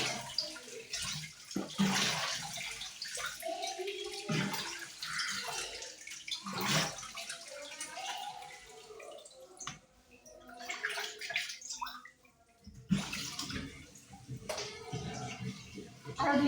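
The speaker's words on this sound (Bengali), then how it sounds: "শাকটা ধুয়ে উঠিয়ে নিচ্ছি" Leafy greens being washed by hand in a basin of water in a home kitchen, with steady splashing and sloshing that rises and falls, briefly quieter in the middle, close and fairly loud throughout.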